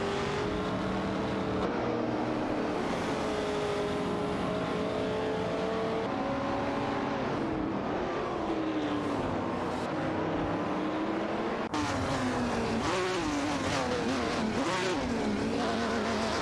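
Racing cars in a video game, including a Mazda RX-3 GT and a Porsche 904, roar continuously with rising and falling engine pitch as they accelerate and shift, loud and sustained throughout with no talking.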